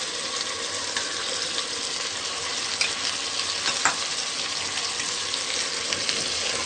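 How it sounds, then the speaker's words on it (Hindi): Onion paste goes into chicken korma frying in a pan, giving a steady dense sizzle with a few soft stirring scrapes, close and continuous with no talking. "ये प्याज का जो हमने पेस्ट बना के रखा है ये भी हम इसके अंदर डाल देंगे।"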